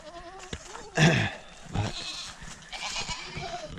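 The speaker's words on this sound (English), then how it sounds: "Goats, man, they destroy everything." Goats in a farm pen bleat in a few loud, close cries, with someone briefly talking around them.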